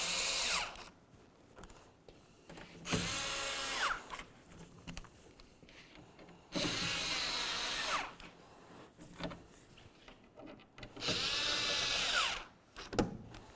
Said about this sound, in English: Let's start tightening the bolts along the top of the tailgate.